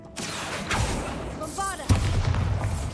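Bombarda blasting spell from Hogwarts Legacy, heard as a few heavy booming impacts with whooshing magical effects, loud and close, under steady game background and voices.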